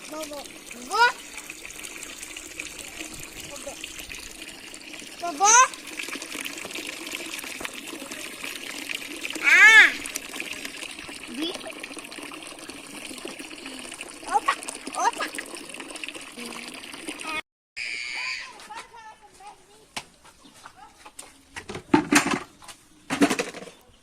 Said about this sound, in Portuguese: Esperar até encher essa caixa d'água.